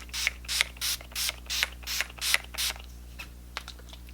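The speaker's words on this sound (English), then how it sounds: "I haven't used a setting spray in so long." A quick run of about eight sharp bursts of makeup setting spray in a steady rhythm, close and fairly loud, followed by a few softer scattered clicks.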